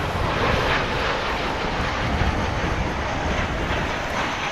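An American Airlines jet arriving at DFW airport from Puerto Vallarta, a loud, broad, steady engine roar close by.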